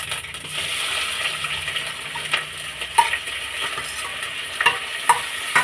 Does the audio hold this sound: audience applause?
no